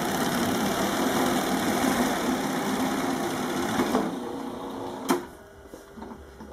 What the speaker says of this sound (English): You can see using the same sewing machine called tape edge.